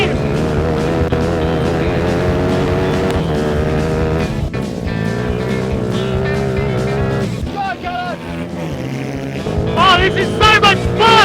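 Racing kart engines buzzing loudly and continuously through a race in the world's cheapest motorsport, rising and falling with throttle, heard close under excited talk.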